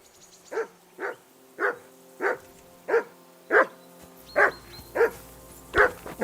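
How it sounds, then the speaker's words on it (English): A dog in the video game Kingdom Come: Deliverance II barks about ten times in a steady, even rhythm, close and clear over a faint low background hum, with no talking. "I assume you can hear that damn dog of yours barking."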